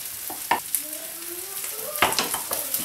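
Mushrooms sweating in a frying pan over low heat, a soft sizzle punctuated by sharp stirring scrapes and clicks of a utensil, close up.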